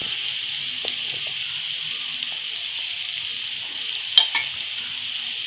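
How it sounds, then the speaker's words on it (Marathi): Soaked sabudana (sago) stirred into khichdi in a pan over a very low flame, with a soft, even sizzle, faint occasional stirring ticks and one brief clatter of a utensil near the end. "आता आपण हे शाबू तांदूळ टाकून घेऊया नरम झालेले."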